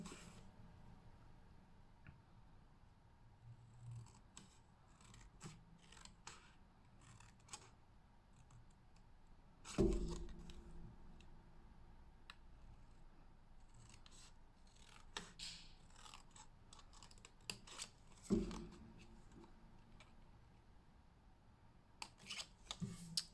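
Scissors cutting a piece of card for a papercraft fancy-fold card: quiet, close snips and rustling paper handling throughout, with two sharper cutting crunches standing out, and no talking.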